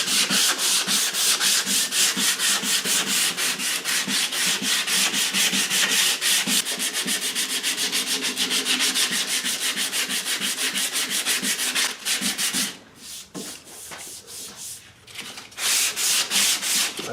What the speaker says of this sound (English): I'll just do a little bit of sanding to clean up the scratches from the scraper.